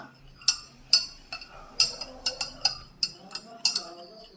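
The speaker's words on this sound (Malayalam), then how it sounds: "നമ്മളിത് ആഡ് ചെയ്ത് നല്ലതുപോലെ മിക്സ് ചെയ്തെടുക്കുക" A spoon clinks and taps repeatedly against a bowl while xanthan gum pre-mixed in vegetable glycerin is stirred into a homemade face pack, about ten bright ticks in an uneven rhythm, close and clear.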